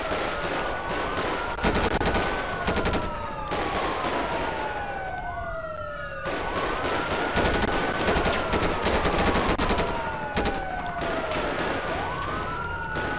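Heavy automatic gunfire in GTA 5 FiveM modded roleplay, loud sustained bursts of rapid shots mixed with continuous wailing police sirens sweeping up and down throughout.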